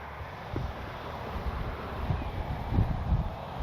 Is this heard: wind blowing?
yes